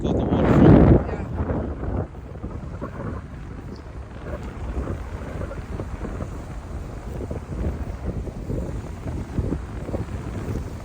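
Strong gusting wind buffets the microphone at the Kingston, Jamaica seaside waterfront, with a loud roaring burst at the start followed by steady rumbling blustery noise.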